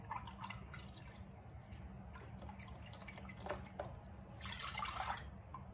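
Milk pours into a pot for pudding, a quiet, close trickle and splash that swells in brief bursts near the end, with no speech.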